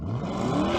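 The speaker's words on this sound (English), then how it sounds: "Go on, Sam, rev up the Lambo." A Lamborghini Urus SUV engine revs while the car sits stationary. The sound is a steady, loud mid-range engine roar that lasts under a second, with no talk over it.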